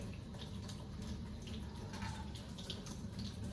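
Tap water being poured into a measuring container to make a 150 milliliter sample, a faint, steady splashing trickle heard up close with no talking.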